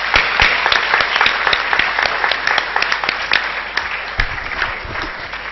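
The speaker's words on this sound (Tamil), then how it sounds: "அனைவரையும் கரகோஷம் எழுப்புமாறு கேட்டுக்கொள்கிறோம்." Sustained audience applause at a graduation ceremony, many hands clapping steadily and loudly throughout, with a few sharper individual claps standing out near the end.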